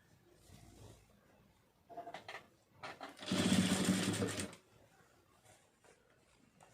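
A sewing machine stitches a sleeve onto a lined blouse. Short bursts of whirring come first, then one longer, louder run of rapid stitching, and quiet handling sounds follow.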